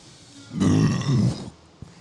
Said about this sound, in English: until she burps into the microphone